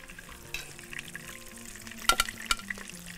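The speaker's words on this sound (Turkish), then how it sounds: "Hala içinde kızarıyormuş gibi ses çıkıyor." Soft crackling sizzle of hot pastry in syrup, with a few sharper clinks and taps near the end, fairly quiet and close.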